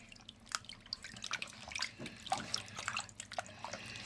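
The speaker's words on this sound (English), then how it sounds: "And then you're going to change this water and wash again in different." Raw chicken pieces being washed by hand in a bowl of water, steady close sloshing and dripping with irregular splashes and no talking.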